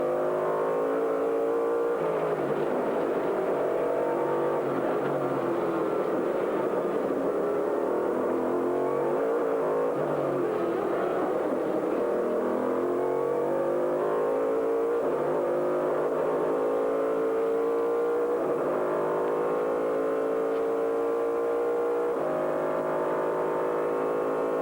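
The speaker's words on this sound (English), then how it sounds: "these are, don't forget, heavy, unwieldy sports cars" Heavy sports racing cars in a 2000 American Le Mans Series race, with a continuous loud, close engine drone that rises and falls in pitch through acceleration and gear changes over the whole stretch, no talking.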